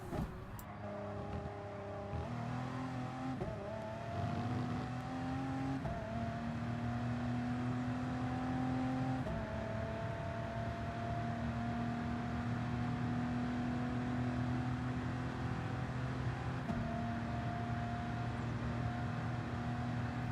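Race car engine in the Gran Turismo Sport video game on Circuit de la Sarthe, droning loud and steady throughout as it accelerates, with rising pitch sweeps and brief dips between gear changes, no talk over it.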